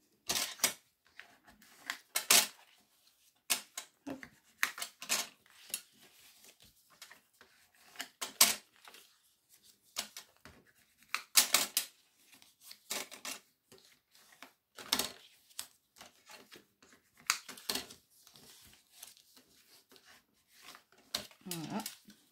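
A cardboard gift box is folded by hand, with sharp creasing snaps and crinkles in irregular bursts, close up, and speech is heard at intervals between them.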